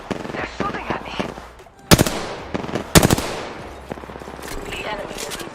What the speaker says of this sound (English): The enemy is in striking range. I'm under fire.